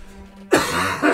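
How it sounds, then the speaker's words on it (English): One rough, throaty throat-clearing cough bursts out loud and close after a moment of quiet background music, trailing into a second smaller rasp. "I'm pretty much constantly suppressing the urge to cough right now."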